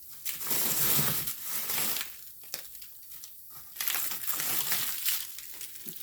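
Packs of hamburgers being stuffed into a plastic bag while packing for a family vacation, producing close, continuous crinkling and crumpling of plastic with louder surges, and no talking.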